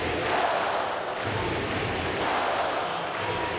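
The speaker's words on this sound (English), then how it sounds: "Crowd into it tonight." Large baseball stadium crowd roaring and cheering continuously during a tense 4-3 Red Sox game against the Mariners, a dense sustained wash of noise with a swell near the middle.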